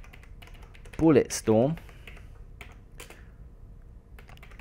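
Quick, light clicks of typing on a computer keyboard, sparse and fairly faint, around a short spoken word.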